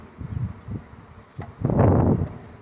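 A low, droning buzz of honeybees fanning inside a hive swells in short bursts, then builds into a louder, sustained hum near the end, close by.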